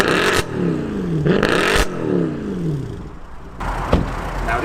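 A high-mileage Mercedes C63 AMG engine revs hard several times, each blip rising and falling in pitch with a rough, loud roar, separated by brief idle pauses.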